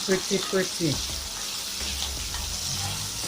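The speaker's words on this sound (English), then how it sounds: "Let's make it brown sauté." Corned pork sautés and browns in a pan for a Jamaican-style cookup, a steady close sizzle that follows a brief burst of voice at the start.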